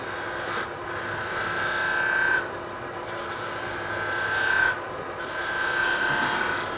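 A gouge edge cuts a wooden bottle stopper spinning on a lathe, giving a close, steady scraping rasp in three strokes separated by brief pauses.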